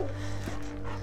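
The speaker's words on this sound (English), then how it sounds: "Erin and her 2 dogs arrive at the Dog Psychology Center to work with Cesar on leadership skills." Saint Bernard dogs at a dog training center make a brief, close whimpering, panting sound over a steady low hum.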